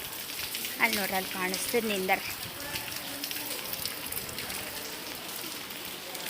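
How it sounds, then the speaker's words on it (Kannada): Light rain falls outdoors as a steady soft patter and hiss throughout, while a person talks briefly near the start. "ಸಣ್ಣ ಹೊಂಟದ ಮಳೆ"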